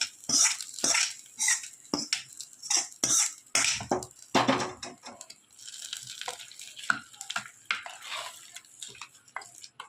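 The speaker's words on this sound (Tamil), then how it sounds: "கொட்டி நல்லா கிளறி விடணும்." Pumpkin and chana dal kootu being stirred in a metal pot, with repeated clinking spoon scrapes and knocks against the vessel, close and fairly loud, in irregular bursts with no talk.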